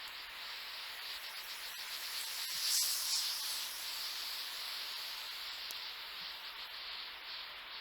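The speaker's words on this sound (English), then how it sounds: "And this is what a leak sounds like." Steady, broad hiss of water escaping a pipe, picked up close by a sensor, swelling slightly louder for a moment before settling back.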